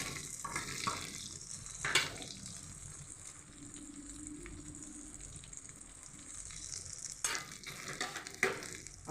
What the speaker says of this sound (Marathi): आता हा मसाला टाकून देते मी।